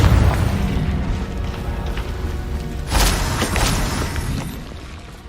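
A Confringo blasting spell explodes in Hogwarts Legacy with a loud, booming burst that decays into rumble, followed by a second crackling blast with debris-like crumbling.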